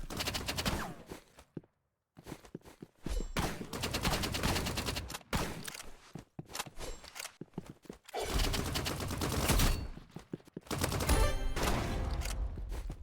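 Rapid gunfire in the Rivals video game plays in dense, loud bursts broken by brief silent gaps, with a continuous game soundscape of shots and effects throughout.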